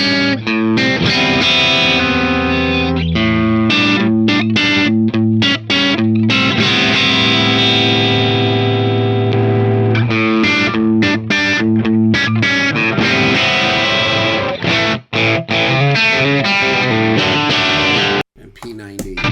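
A Telecaster electric guitar plays through distortion effects, loud and close, with sustained chords and choppy rhythmic stabs running throughout.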